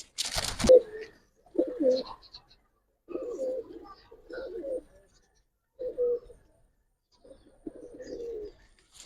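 Giribaz silver and coloured pigeons on a rooftop loft give a series of soft, low cooing calls in separate bursts, fairly close and clear, with quiet pauses between them.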